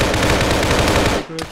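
Rapid automatic gunfire in the military shooter game ARMA 3, a dense continuous burst of loud shots that stops abruptly near the end.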